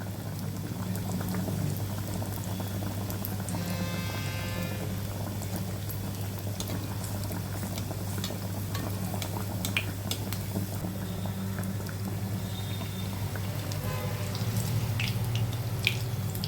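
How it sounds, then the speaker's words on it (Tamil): Pathiri snacks deep-fry slowly in oil, a continuous bubbling, frothy sizzle with a low steady hum beneath and occasional small drips and clinks from a pan, sustained throughout. "இப்போ இது பொறுமையாக ஃப்ரை ஆகணும், நல்லா உள்ள வரைக்கும் நல்லா ஃப்ரை ஆகணும்."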